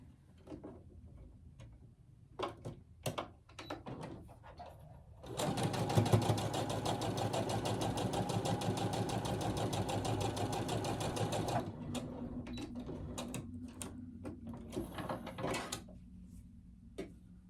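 A domestic sewing machine sews quilt pieces together without pins in one steady six-second run, with scattered light clicks and handling taps before and after.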